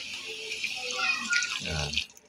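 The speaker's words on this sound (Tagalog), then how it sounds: "Lagyan natin ng konting tubig lang mga idol." Water pours and splashes into a pot of meat in a steady stream, with a brief low voice underneath, then the flow cuts off near the end.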